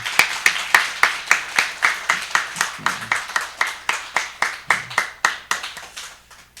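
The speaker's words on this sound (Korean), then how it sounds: "우리 다시 한번 하나님께 기쁨과 감사와 영광의 박수를 올려드리겠습니다." A church congregation applauds together at a Christmas service, a steady run of sharp, evenly spaced hand claps lasting several seconds with no talking over it.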